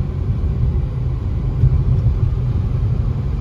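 A 2007 Mercedes-Benz C230 with a 2.5 V6 runs with a steady low rumble, heard up close from inside the car while driving, with no talking.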